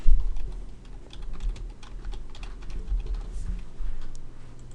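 A parameter name is typed on a computer keyboard, a steady run of soft, close key taps in quick irregular rhythm over a low room hum, with no voices.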